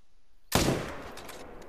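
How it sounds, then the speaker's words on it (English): A single sharp rifle shot fired at a bull elk in a hunting video game, a sudden loud crack followed by a rolling, decaying echo. "if that one puts its head down, I think I'm going to go for the shot"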